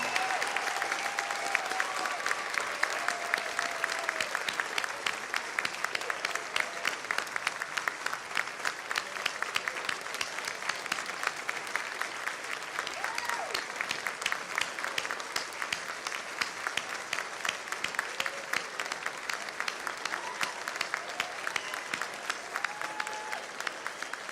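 Sustained applause from the audience at a master's hooding and honors ceremony, steady dense clapping filling the hall throughout with a few faint voices underneath.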